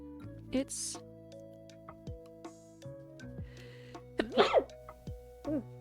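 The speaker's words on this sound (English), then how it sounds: "Oh, I gotta sneeze." A single sharp sneeze bursts out near the start, followed by sniffs and breathy noises amid quiet talk and background hum.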